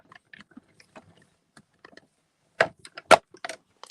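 A hand-cranked cut and emboss machine is rolled back and forth, giving soft scattered clicks at first, then several sharp, loud clacks and ratcheting knocks close by near the end.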